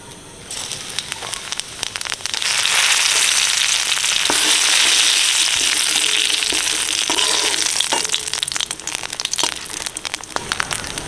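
Bay leaf, dried chili and whole cumin frying in hot oil, a loud close sizzle that swells and holds, with crackles and spatters over it, then eases slightly.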